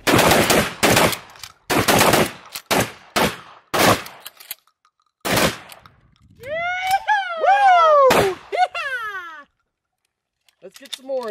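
Bursts of automatic gunfire shooting pumpkins at an outdoor range, several loud rapid volleys in the first half, then excited shouting and whooping voices with a few more shots near the end.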